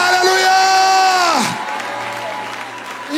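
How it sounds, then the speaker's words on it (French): A church congregation bursts into loud applause and cheering, the clapping and voices dense for over a second before easing into softer, scattered claps with a sustained musical tone underneath. "applaudissez pour lui"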